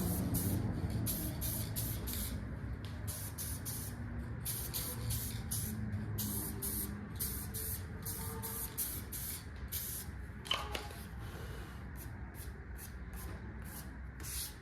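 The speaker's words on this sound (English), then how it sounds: "Light coats on the adhesion promoter." Steady hiss of an adhesion promoter aerosol can spraying in short repeated bursts onto 351 engine parts, continuous and close, with faint background hum.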